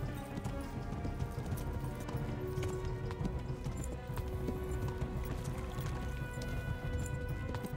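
In the video game Kingdom Come: Deliverance, a horse's hooves clip-clop steadily under a thick bed of game music and ambient noise, the hoofbeats faint and continuous.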